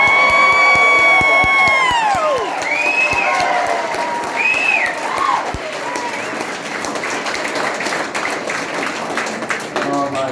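A crowd at a Pierre Poilievre meet-and-greet rally in Summerside, PEI, cheers, whoops and applauds loudly, and a dense wall of clapping and shouting slowly fades over about ten seconds.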